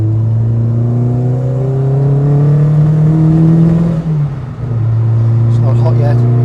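A Vauxhall Nova Sport engine on twin Weber 40 carburettors revs loudly while still cold, its pitch rising and falling with a splutter and a brief dip, as people talk over it.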